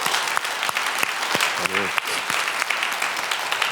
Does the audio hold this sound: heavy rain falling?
no